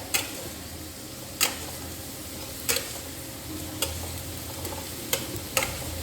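Potatoes sizzle steadily as they fry in hot oil in a pan. Sharp clicks of a utensil stirring them come at irregular intervals, roughly once a second, close to the microphone, with no talking.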